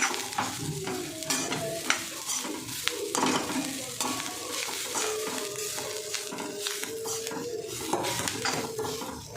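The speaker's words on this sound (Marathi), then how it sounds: "आता कोथिंबीर घातल्यानंतर चांगलं परतून घ्यायचं" A coriander filling for sambar vadi sautéed in a pan, with salt added, gives a continuous close sizzle and frying crackle under steady stirring and scraping of a utensil against the metal, with no talk.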